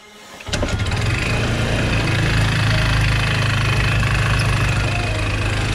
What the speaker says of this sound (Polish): Jest takie dziwne stukanie w silniku, nie wiem przez co.